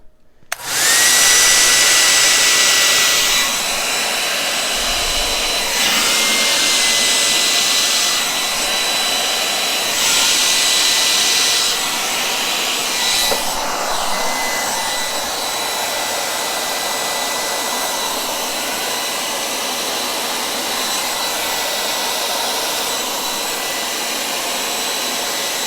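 Air blower pushing acrylic pour paint with black and metallic colours, a loud steady whoosh running throughout with brief pulses and pauses as the stream is moved, no talking.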